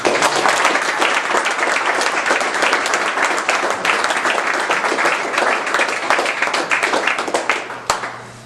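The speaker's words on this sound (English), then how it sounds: "So big round of applause for everybody." A crowd at a store grand opening in Toronto applauds loudly and steadily for several seconds, dense clapping filling the space before tapering off near the end.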